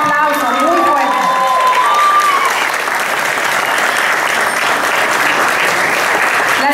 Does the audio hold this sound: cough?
no